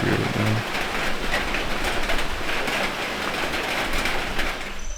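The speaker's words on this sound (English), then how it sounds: "it's raining crazy right now." Heavy rain falls at night in Peru's Amazon rainforest, a steady, dense, even hiss that fills the whole stretch with no voices.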